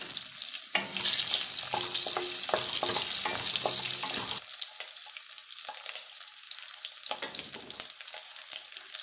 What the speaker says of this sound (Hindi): अब इसमें डालेंगे प्याज